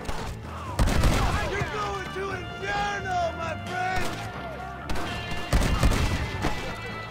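Automatic shotgun fire blasts repeatedly in Red Dead Redemption, loud booming shots in quick clusters over a rattling fusillade, with someone talking over the gunfire.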